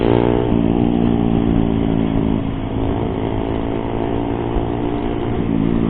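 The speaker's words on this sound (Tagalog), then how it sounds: "Ang lakas ng kanyang muffler. Sobrang ingay." A motorcycle with a loud muffler rides along a forest highway in Rizal, its engine note buzzing steadily and close, with rich harmonics and small shifts in pitch as it cruises.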